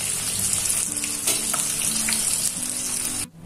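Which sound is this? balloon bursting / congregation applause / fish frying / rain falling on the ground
fish frying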